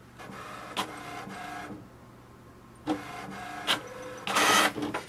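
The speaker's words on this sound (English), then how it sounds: "So printing the alignment page." An HP Envy 6032 inkjet printer runs off an alignment page, giving bursts of mechanical whirring and clicking from the print carriage and paper feed, with a brief quiet pause and a louder rush near the end.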